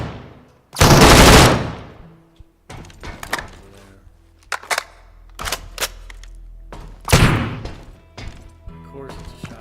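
Shotgun blasts in the Deadside video game, two loud, booming shots about six seconds apart, each with a long decaying tail, between quieter clicks and handling sounds.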